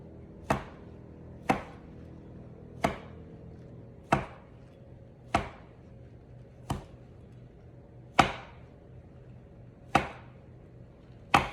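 A knife slices through rolled puff pastry for palmiers, about nine crisp, evenly spaced thuds on a board, close and clear against a quiet background.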